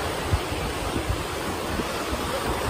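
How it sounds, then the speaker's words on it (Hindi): Ocean surf rolls onto Chandrabhaga Beach at Puri, Odisha, a steady loud wash of breaking waves mixed with wind noise and no voices. "सो गाइस, ये है चंद्रभागा बीच।"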